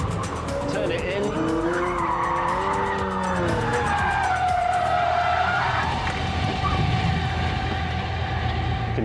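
Pagani supercar sliding fast round a corner, tires squealing loudly in rising and falling howls over a steady engine roar, with a voice speaking beneath the sound.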